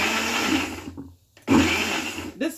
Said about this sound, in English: This blender is called Pro Blade. It's called Pro Blade 6 by Philips.